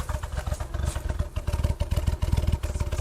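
Loud, lumpy idle from an '83 BMW 320i engine with an aggressive camshaft, an uneven, choppy pulse loping and surging irregularly up close, with no talking.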